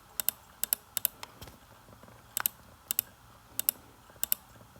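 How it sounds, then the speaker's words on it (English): Sharp computer mouse or keyboard clicks in an otherwise quiet room, coming in close pairs and small clusters with short pauses between them, crisp and near. "As you can hear, I'm clicking."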